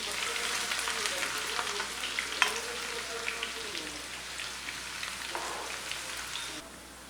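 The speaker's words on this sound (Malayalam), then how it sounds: "അപ്പം നമുക്ക് കുറേശ്ശെ ഇട്ട് സവോള വറുത്തെടുക്കാം." Sliced onions deep frying in hot oil, a steady dense crackling sizzle that runs throughout at moderate loudness, with a few sharper pops and faint stirring clinks, easing slightly toward the end.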